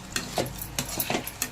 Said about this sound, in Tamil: அதுக்கப்புறம் கொஞ்சம் கரம் மசாலா போட்டுட்டு நல்லா மிக்ஸ் பண்ணி விடுங்க